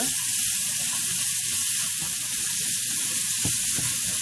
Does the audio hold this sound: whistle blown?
no